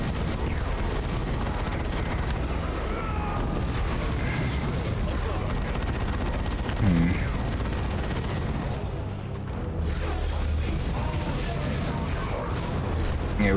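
Battlefield gunfire in the real-time strategy video game Warhammer 40K: Dawn of War 2 Chaos Rising, a dense continuous rumble of shots, artillery booms and explosions at steady loudness, with a faint voice under the din.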